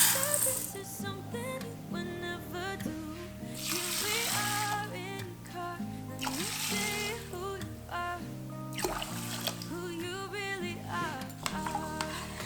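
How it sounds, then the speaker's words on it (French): Lentils and water poured into a cooking pot for a lentil and rice mjaddara: repeated splashing, pattering pours with rattling grains, close and fairly quiet, no talking. "Je vais mettre un verre de lentilles et 3 verres d'eau."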